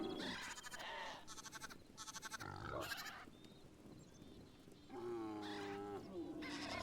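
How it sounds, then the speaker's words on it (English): Sheep in Hytale, a video game, bleat repeatedly in pens, with several loud, wavering cries that overlap and follow one another with short pauses between them, and no talking. "More sheep are in the pens."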